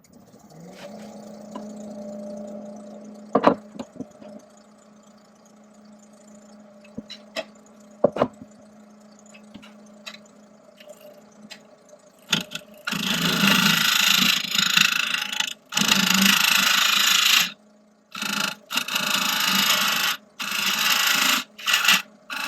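An oak tray rim is turned on a lathe, starting with quiet light taps and knocks, then loud harsh cutting bursts in several long passes broken by short pauses.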